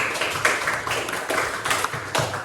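Classroom applause for a student in a junior high Indonesian lesson, a busy patter of many hands clapping with rhythmic swells, fairly close and steady for a few seconds, no talking over it.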